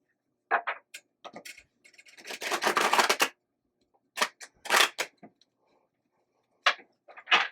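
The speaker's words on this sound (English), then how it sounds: "So I just got to do one more good shuffle over here" Playing cards shuffled by hand in several quick bursts, each a short riffling flutter with near, crisp texture, separated by brief pauses and ending with a couple of sharp final snaps.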